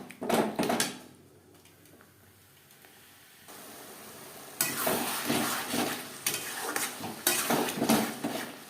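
Chicken sautéing with spices and red chili powder in a pan, bursts of stirring and spatula scraping against the pan over a sizzle, a quieter steady hiss in the middle, then vigorous stirring resumes.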